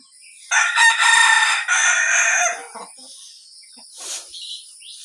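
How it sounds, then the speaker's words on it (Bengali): A native rooster crows close by in a long, loud cock-a-doodle-doo, then gives a few softer clucks and short calls. "এই দেশি মোরগটা খুব ডিস্টার্ব করে"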